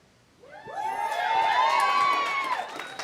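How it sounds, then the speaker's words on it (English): Comedy club crowd erupts in cheering and whooping with some clapping, swelling loudly after a quiet start and holding for a couple of seconds before easing slightly. "I want you to notice only about 5 women clapped in this room"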